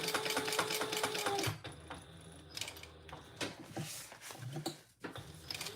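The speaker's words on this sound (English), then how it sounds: "So we're going to sew down the sides and across the bottom." A sewing machine stitches down the sides and across the bottom of a fabric wallet, with a fast mechanical whir and needle patter up close that starts and stops in short runs.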